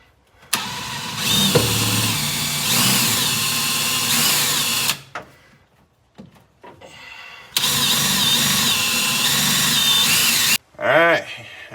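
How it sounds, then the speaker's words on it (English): Worn hole saw bit on a drill cutting a hole during a clutch master cylinder install on a Bullnose Ford F-150, two long grinding, whirring bursts separated by a pause and short stops. "Now my hole saw bit is a little worn out, so this might take a second, but she should get the job done."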